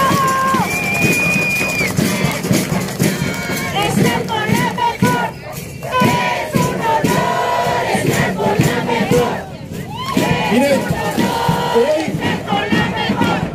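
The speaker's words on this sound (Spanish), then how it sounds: "para la cual también pido un fuerte aplauso" A large crowd at a local campaign rally for a district deputy candidate roars with cheers, shouts and whoops, a loud continuous mass of voices close by that swells and dips slightly without letting up.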